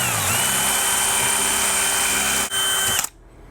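A power drill with a 1/4 inch bit drills into metal for a stainless steel bolt mount on a boat, a loud, steady high whine held close for about three seconds before it cuts off abruptly.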